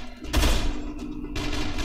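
Gunfire bursts out in a shootout in the video game Dead Island: a loud, heavy blast of rapid shots, then a brief lull and another rough volley.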